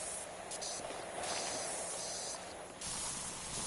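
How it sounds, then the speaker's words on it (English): A pressure washer in the video game Power Wash Simulator 2 sprays while nearly out of soap, giving a steady, hissing rush that briefly drops and returns. "I kept hearing that spray, like the noise it makes when you're about out of soap."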